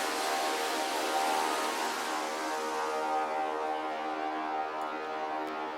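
An ambient synth drone built from a rain recording in Ableton Live, with one pitch raised an octave, sustains as a dense tonal wash of layered harmonic lines over hissy noise, loud and continuous, slowly thinning in its upper part toward the end.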